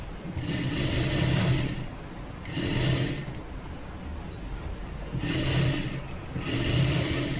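A sewing machine runs a stitch joining a blouse to its lining in alternating bursts of steady whirring and mechanical clatter, loud and close, easing slightly between runs with no speech.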